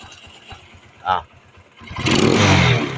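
A motorcycle engine fitted with a freshly tuned 28mm carburetor revs up loudly toward the end after a quieter idle stretch, with a brief voice earlier.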